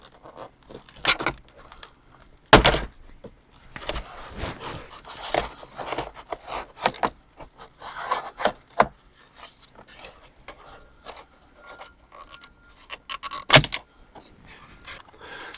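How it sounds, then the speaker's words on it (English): A plastic dome light housing is pried away from its chrome surround inside a 2015 Ford Fiesta, giving close, irregular scraping, rubbing and sharp plastic clicks with a couple of louder snaps. "We're going to have to pry the housing away from the chrome piece."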